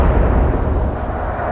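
Heavy naval gunfire booms in the naval strategy game Atlantic Fleet, a loud, deep rumbling blast that stays sustained and thunderous for the whole moment, dominating the soundscape.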